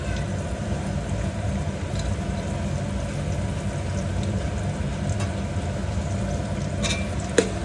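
Eggs fry in a pan for egg pulao, a steady low sizzle running throughout at moderate volume, with a faint click near the end and no one speaking.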